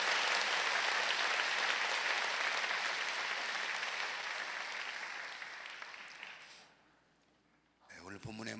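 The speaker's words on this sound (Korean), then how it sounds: "여러분 다시 한번 크게 박수로 감사를 표하자고요" Sustained loud applause from a church congregation after a men's choir hymn, steady clapping that fades and drops out briefly before a voice resumes.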